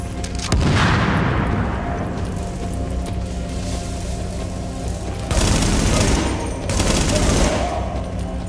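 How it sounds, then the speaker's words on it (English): Gunfire in the video game The Division, loud booming shots and bursts with a heavy opening blast and two later volleys over a rumbling backdrop. "that shooting, that was you, right?"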